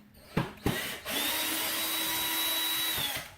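A couple of sharp clicks, then a power drill whirs steadily for about two seconds at close range before winding down, removing screws from a guitar.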